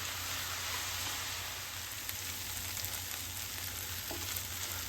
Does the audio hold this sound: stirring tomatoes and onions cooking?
yes